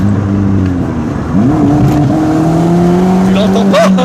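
A 1-litre turbocharged stage 3 car weighing 1100 kg revs and accelerates nearby, its engine note climbing and holding steady over about four seconds, with a rising whine near the end and people talking over it.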